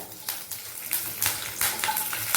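Fennel seeds and curry leaves frying in a hot pan for white chicken kurma: a steady crackling sizzle, close and moderately loud, punctuated by repeated sharp spatters and stirring scrapes.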